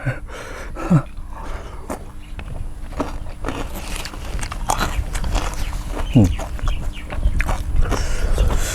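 Crunchy raw vegetables are bitten and chewed up close, giving crisp snaps and steady crunching over several seconds against a busy background with some faint voices.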